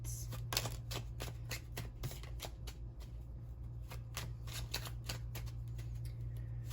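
Steady crisp riffling and flicking of tarot cards being shuffled close by, with a constant low hum underneath.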